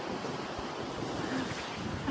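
Winter ocean waves break on rocks at a Mornington Peninsula beach, a continuous wash of surf with rolling swells, heard close and fairly faint under light wind buffeting.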